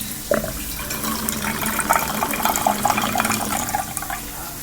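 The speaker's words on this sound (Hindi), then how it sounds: "ये करने के बाद हम थोड़ा सा पानी लेंगे" Water splashes and pours steadily into a cooking pot of khichdi for a few seconds, a bright, bubbling trickle that continues without pause.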